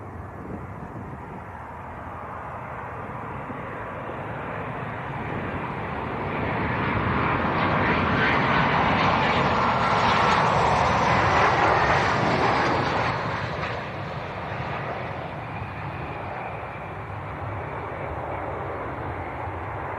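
A Jet2 airliner from Antalya passing at Leeds Bradford Airport at night, its engine roar swelling to a loud peak midway and then easing off.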